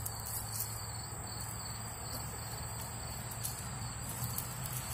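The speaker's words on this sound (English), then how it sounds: "there are crickets everywhere." Crickets chirp continuously in a shrill, steady chorus against a low background hum, with no voices.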